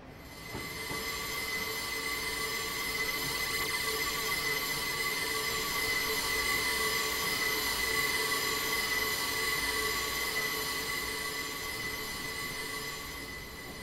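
A train in a railway simulator game runs along the Portsmouth Direct Line, a steady loud rolling hum with sustained high wheel squeal held evenly throughout, no talking over it.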